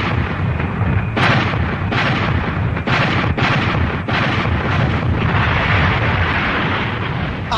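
Heavy naval guns firing in a sea battle, a dense roar of repeated booming blasts and rumbling explosions that continue without pause, loud and close.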